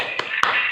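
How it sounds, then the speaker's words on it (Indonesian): Two sharp, close hand claps land a fraction of a second apart as a group does a spirit clap during an online class, with a faint voice around them. "Kita mulai hitungan ketiga, ya. 1, 2, 3. Tepuk semangat."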